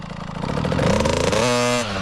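A child's small KTM dirt bike on a muddy track revs up hard, the engine pitch climbing to a loud buzzing whine before easing back slightly, close and alone without talk.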